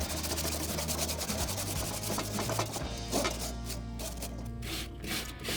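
Crumpled tin foil is rubbed hard against a Weber grill grate in quick back-and-forth scrubbing strokes, close and gritty, with short pauses between bursts.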